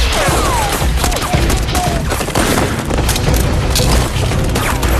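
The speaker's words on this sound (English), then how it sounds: "식스를 사이에 두고 경찰과 킬러들 간의 총격전이 펼쳐졌고" A gunfight between police and killers in an action movie: dense, loud volleys of gunfire and booming explosions pound continuously, with dramatic movie audio layered throughout.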